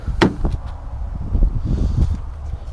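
The pillarless door of a 2000 Subaru Impreza is opened from close by, giving a sharp latch click followed by several soft thuds and rustles.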